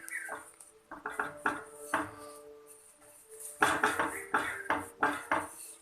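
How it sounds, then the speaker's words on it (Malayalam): Chapati dough being rolled thin at the edges on a board, a soft kitchen clatter of rolling pin knocks and scrapes in irregular bursts, fairly quiet with no talking. "നമുക്കിത് ഇതുപോലെ ചപ്പാത്തിയുടെ അരിക് ഭാഗം കുറച്ച് കനം കുറച്ച് പരത്തിയെടുക്കാം"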